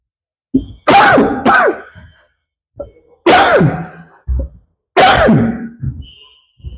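A man coughing and clearing his throat in several hoarse, close bursts, with short silent gaps between the fits, in an otherwise quiet room.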